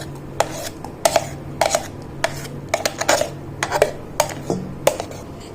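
Mango pulp blended with sugar is stirred into melted agar in a pan, giving soft scraping strokes and light clinks of a spoon against the pan at an irregular pace, close and alone.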